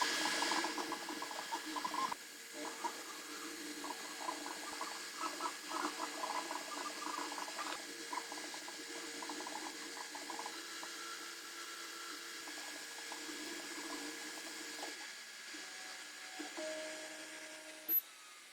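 Desktop 3D printer running, its stepper motors emitting steady whining tones that shift pitch as the print head moves, with faint mechanical clicks over a low hum, close and fairly quiet.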